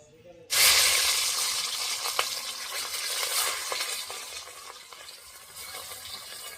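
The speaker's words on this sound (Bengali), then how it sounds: "চলো এবার রুই মাছটা ভেজে নেই।" Rohu fish pieces frying in hot oil in a pan: a loud, steady sizzle erupts suddenly as the fish goes in and continues close up, with faint stirring clinks and no talking.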